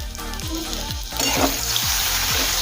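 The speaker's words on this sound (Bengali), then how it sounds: "কলা অনেকখানি ভাজা ভাজা হয়ে গিয়েছে আর সাথে কিছুটা নরমও হয়ে গিয়েছে" Pieces of raw green plantain fry in a pan with ground spices for a rohu fish curry, a steady close sizzle punctuated by regular scraping stir strokes, and the frying swells louder partway through.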